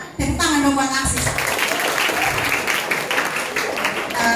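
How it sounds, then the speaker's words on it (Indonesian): Audience applause for AXIS at a school event with a pageant contestant present, a burst of clapping from a crowd, with a voice over it at the start. "Tepuk tangan dong buat AXIS."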